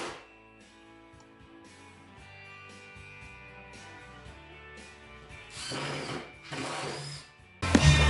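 A power drill whirs while drilling and countersinking holes and driving screws into wooden stretchers to attach a miter station countertop, running quietly at first, then in louder bursts toward the end.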